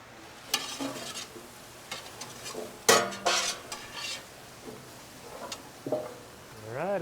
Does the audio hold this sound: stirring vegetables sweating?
yes